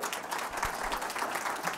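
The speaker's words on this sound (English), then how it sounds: "clap for that" Audience applause at a trauma healing institute community of practice session, a steady patter of many hands clapping without a break throughout.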